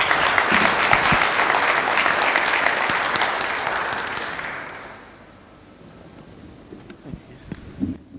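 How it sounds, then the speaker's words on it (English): An audience applauds the panelists at a business council event on India at 100, with loud sustained clapping that fades out after about five seconds, leaving a few stray claps and room noise. "Please give them a round of applause."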